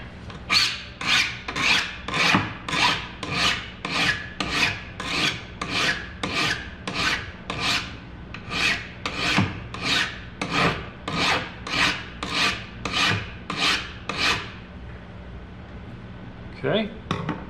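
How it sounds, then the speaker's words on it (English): Rhythmic file strokes rasp along a wooden edge, beveling it to 45 degrees for a hinge: about twenty-five even, close strokes in steady succession, then the filing stops. "I'm going to file a 45."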